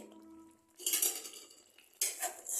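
A spoon stirs garam masala into rajma in a pot, producing two short bursts of metallic scraping and clinking against the pot, close and moderately loud, separated by a quieter gap.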